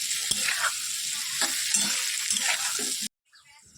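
Pointed gourd and prawns with ginger, garlic, cumin and chilli powder fry loudly in a pan, with a steady close sizzle and stirring scrapes, before the sound cuts off abruptly near the end.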